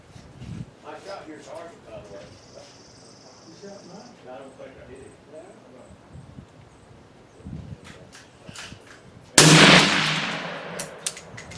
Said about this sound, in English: I shot two three-shot groups and started with the bullseye